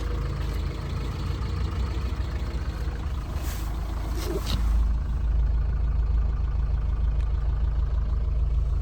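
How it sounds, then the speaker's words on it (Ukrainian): A 2005 Opel Zafira 1.9 diesel engine idles steadily with a low, continuous rumble, close and even throughout, with no speech. "Двигун працює ідеально"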